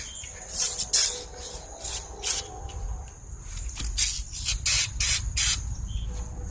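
Short bursts of aerosol engine degreaser spray onto a Murray lawn mower, hissing in quick succession, some single and some in rapid pairs, over a low background rumble.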